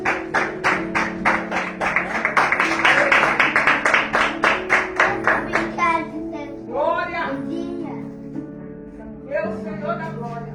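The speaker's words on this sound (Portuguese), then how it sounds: "Solte dando uma salva de palmas para o Rei da Glória." Church congregation at a Pentecostal service applauding, a steady loud run of rhythmic clapping that fades out, followed by voices and singing.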